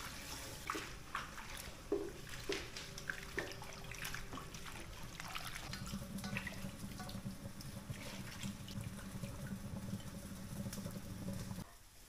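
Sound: washing pickled cabbage under running tap water

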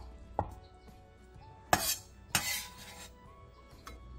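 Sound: knife slicing crab sticks diagonally on a cutting board

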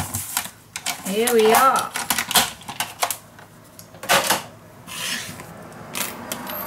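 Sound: scoring and cutting paper for a scrapbook mini album

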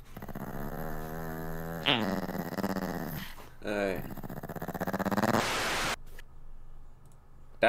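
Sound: dog growling like a motorcycle

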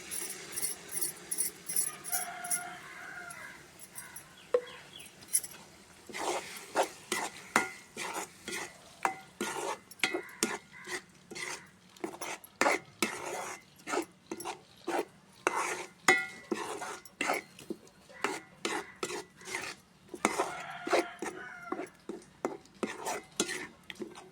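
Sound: ground tomato being stirred in hot oil for pickle

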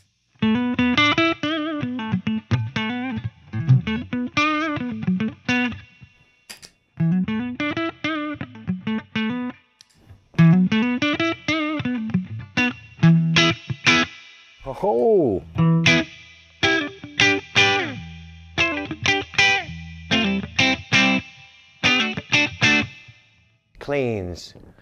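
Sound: Epiphone 59 Les Paul guitar played with a boost

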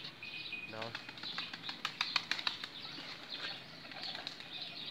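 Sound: pigeon flapping wings

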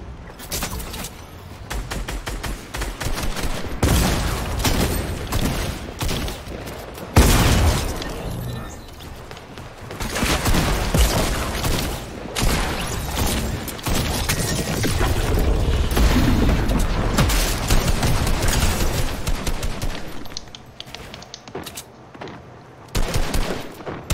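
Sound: gunfire from a video game (Fortnite)

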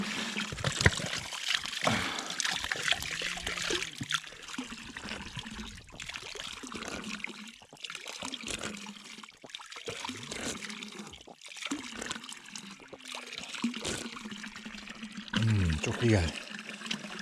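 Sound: water flowing from a historic stone fountain

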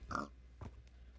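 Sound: pig oinking in video game Minecraft

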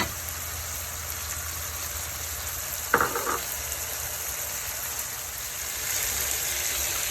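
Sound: shrimp and vegetables being fried in a pan

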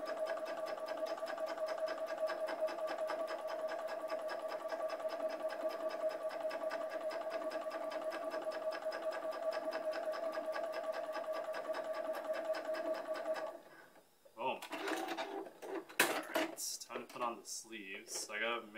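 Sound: sewing machine doing a straight stitch

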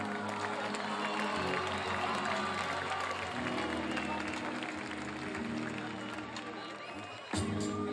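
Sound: audience applause at a live concert

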